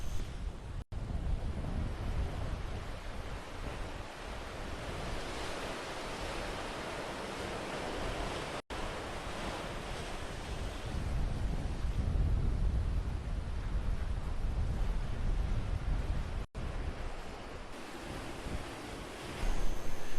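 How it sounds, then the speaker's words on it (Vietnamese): Rough sea surf crashing against a rocky shore, a continuous loud wash of breaking waves with surging swells and some wind buffeting the microphone. "Không giống như bờ biển yên tĩnh, sóng biển rất dữ dội."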